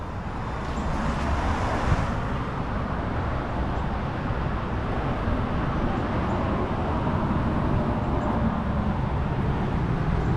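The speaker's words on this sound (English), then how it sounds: "Sorry for the road noise." Continuous road noise roars steadily throughout, a dense low rumble with wind hiss and no breaks, heard beside a 2004 Ford Excursion with a 6.0L Powerstroke diesel.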